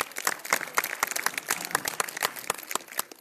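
A live audience at a motivational program claps on cue, producing a brief burst of dense, crisp applause with sharp individual hand claps close by, lasting about three seconds with no talking over it.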